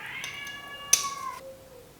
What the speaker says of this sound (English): If you hear a cat in the back